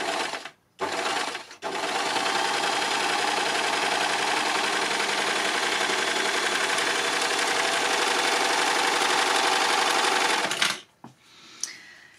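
An overlocker sewing machine stitches fabric in one long, loud, steady whirring run of about nine seconds, preceded by two short bursts and ending in quieter handling sounds.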